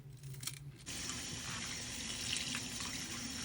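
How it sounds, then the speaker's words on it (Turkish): Vegetable roots being washed under a running kitchen tap, a steady close rush of water into the sink that begins after a brief handling sound, continuing alone without speech. "Şöyle suyun altında bu köklerini ayrı ayrı yıkamamız gerekiyor."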